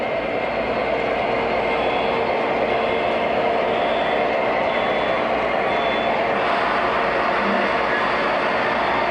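A Florida East Coast freight train rolls past steadily, a loud rumble of railcars with a continuous rushing roar and faint wheel noise lasting the whole stretch.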